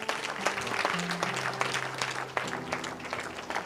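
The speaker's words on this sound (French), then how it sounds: "Acclame pour Jésus." A church congregation claps in praise of Jesus, a steady dense wash of applause with a sustained tone humming beneath it and a few sharper claps standing out.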